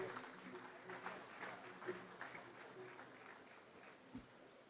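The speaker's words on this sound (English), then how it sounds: "A better round of applause for His Excellency the President" Applause from the audience after the President of Ghana's speech at the commissioning of a large pasta factory, a soft, fairly distant patter of clapping that rises and fades, with a voice speaking over it.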